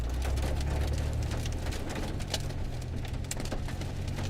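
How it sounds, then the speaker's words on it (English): Quarter-sized hail falls during a severe spring storm, a dense, steady clatter of hits with scattered sharper impacts standing out, all over a constant low rumble of wind or engine. "That was a lot of quarter-sized hail right there."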